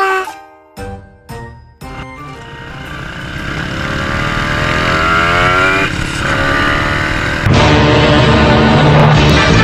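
Motorcycle ridden on a familiar road on a cold day, engine note rising steadily as it accelerates and shifts, with wind rush throughout; a few sharp tinkling sounds at the start before the ride.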